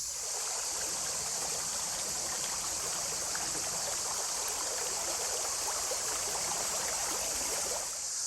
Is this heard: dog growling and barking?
no